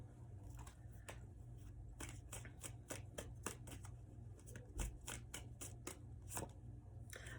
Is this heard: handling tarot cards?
yes